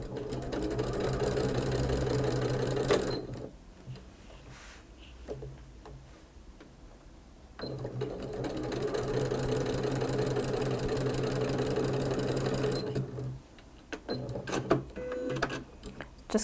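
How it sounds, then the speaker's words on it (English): A sewing machine stitches binding onto a quilt in rapid, even bursts of mechanical clatter, running for a few seconds, pausing, then running again for several seconds, close and steady with quieter handling noises in the gaps. "we'll start sewing"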